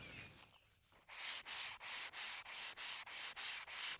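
Steady strokes of sanding across a wooden dining table follow a faint start. The back-and-forth scrubbing repeats in a regular rhythm about every third of a second, close and unvoiced.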